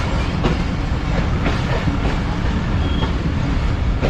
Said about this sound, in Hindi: ये रिलीफ ट्रेन पीछे की तरफ शंट हो रही है।